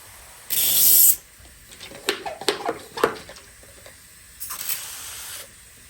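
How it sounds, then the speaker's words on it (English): Spray bottle misting the canopy of a ficus bonsai: a loud hiss at the start, then softer handling clicks and rustles, and another short spray burst near the end. "Let's spray the canopy a little bit."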